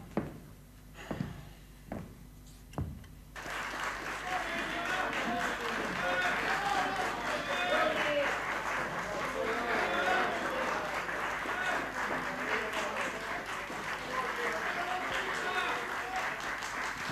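A theatre comedy audience breaks into sustained applause and cheering, a dense crowd roar that follows a few sharp isolated thumps and continues steadily to the end.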